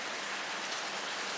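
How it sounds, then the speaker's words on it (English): Steady rain falls non-stop, a dense, even hiss of drops pattering on a roof, close and continuous with no voices. "It has been raining non-stop since I landed"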